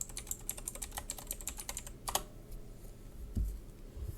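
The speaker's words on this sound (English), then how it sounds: "If I run it and type my Minecraft username" Fingers tap rapidly on a computer keyboard while a Minecraft username is typed, a dense run of clicks for about two seconds, then a few scattered keystrokes and a low thump.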